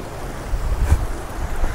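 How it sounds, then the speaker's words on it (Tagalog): Sea waves break on the shore near Maragondon, a low, continuous surf rush with wind buffeting the microphone and a slightly stronger surge midway. "Para makita natin yung hampas ng alon."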